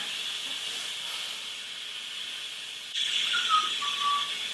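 An Instant Pot releases steam from cooking beans in a steady, close hiss that grows louder partway through and gains a thin squealing whistle.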